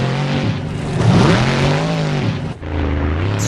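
A monster truck's engine roars and revs hard during a freestyle tournament run in Jacksonville as the driver tries for a power wheelie, a loud, sustained engine drone that rises and falls with a brief dip near the end.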